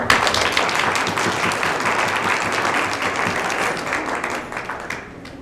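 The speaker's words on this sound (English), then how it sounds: "So can we give them a round of applause?" Round of applause from an audience for the performers at a mentoring awards ceremony, dense sustained clapping that stays loud, then tapers slightly near the end, with no talking.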